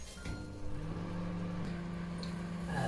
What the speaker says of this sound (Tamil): மைக்ரோவேவ் ஆன் பண்ணிவிட்டு ஸ்டார்ட் கொடுத்துட்டு ஒரு 3 minutes